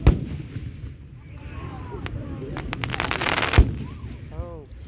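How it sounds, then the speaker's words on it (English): Fireworks exploding over Plainfield, Connecticut, a sharp nearby boom followed by crackling bursts and a second loud bang, with whistling rockets and faint voices in the background. "That's fireworks, Sal."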